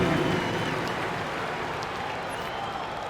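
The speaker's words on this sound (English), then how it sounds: "Give a round of applause to your Pacers youth dance team." Arena crowd applause in an NBA 2K25 basketball game, Charlotte Hornets versus Indiana Pacers, rises as a broad, steady wash of clapping and crowd noise that slowly fades.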